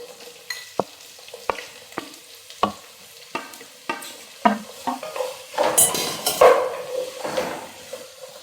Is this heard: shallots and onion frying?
yes